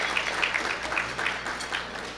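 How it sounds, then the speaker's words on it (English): An audience at the 2018 Ohio Somali graduation and scholarship ceremony applauds the graduates' parents with a steady, dense wash of clapping that holds at an even, moderate level from start to finish. "Would you give them applause tonight and honor them?"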